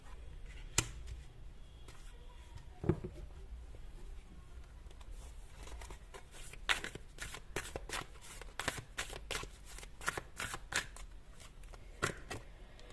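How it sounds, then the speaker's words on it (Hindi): Tarot cards are drawn and handled during a reading: soft papery snaps, flicks and shuffling rustles, close and fairly quiet, coming in irregular clusters that grow busier toward the end. "मैं सारे कार्ड्स निकाल रही हूं, फिर एक साथ आपको एक्सप्लेन करूंगी।"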